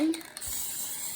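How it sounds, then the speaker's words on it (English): A brief hiss of adhesive spray being applied to quilt fabric, a short close burst that trails off into soft, steady hissing. "you give it a good old spray"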